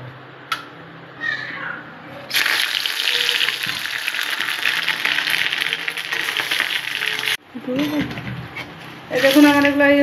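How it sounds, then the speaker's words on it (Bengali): Curry leaves hit hot oil for a tadka, bursting into a loud, steady crackling sizzle that runs several seconds, then fades as something is stirred in; brief voices come before and after. "তেলটা গরম হয়ে গেছে, এখন তড়কা দেবো।"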